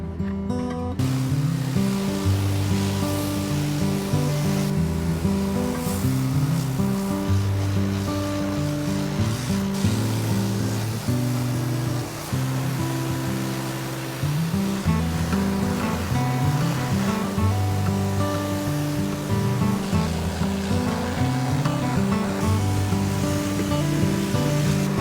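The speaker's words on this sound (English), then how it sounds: "So let me grab my safety stuff and we'll do some pressure washing." A gas pressure washer blasting clay and dirt off a freshly sawn walnut burl slab outdoors, a loud continuous hissing water spray over a steady engine drone, running for the whole stretch with a brief dip midway.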